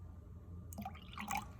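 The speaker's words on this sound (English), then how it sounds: "Ooh, let's pour some of this out." Liquid poured out in a lab during a cellular respiration experiment, a short splashy pour that starts abruptly partway through and runs close and moderately loud to the end, with no talk.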